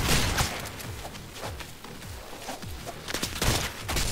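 Cannon fire in the Rounds video game, a dense rapid volley of gunfire-like shots and impacts packed together over several seconds, busy and continuous with no clear talk.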